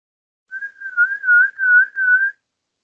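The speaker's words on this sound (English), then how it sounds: "could you give me a whistle? A real-life whistle." A person whistles one sustained, wavering mid-pitched note, about two seconds long and a little uneven in loudness, heard alone and close to the listener with no background sound.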